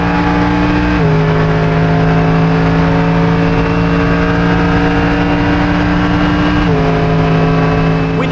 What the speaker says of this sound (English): 3rd gear, 4th gear, just listen to the engine, this is music.